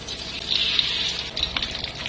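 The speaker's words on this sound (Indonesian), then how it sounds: "celupkan daun jagung ke dalam adonan, lalu digoreng." Corn leaves dipped in a rice flour and broth powder batter fry in hot oil, giving a continuous bright hiss and crackle at moderate loudness with no talking.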